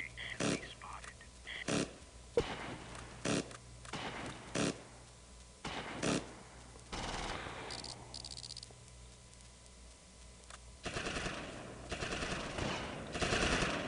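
Bursts of gunfire sound in the World War II strategy game Close Combat: Invasion Normandy as airborne troops fight Fallschirmjäger around a house. Sharp, repeated rattles and cracks come at irregular intervals at a low level, with faint murmuring between them.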